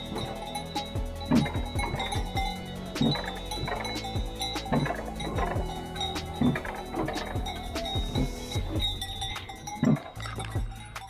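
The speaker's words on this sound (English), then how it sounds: "the cows all have cowbells on" Cowbells on grazing cows in the Swiss Alps clank and tinkle irregularly, several bells overlapping at close to middle distance over a low steady background.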